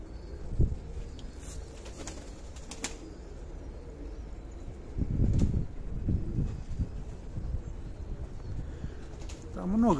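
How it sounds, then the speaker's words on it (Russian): Marbled pigeons of the Dagestan Makhachkala breed coo in soft low bursts, with wing flaps and scattered rustling nearby. "Но это дагестанская махачкалинская порода мраморных голубей."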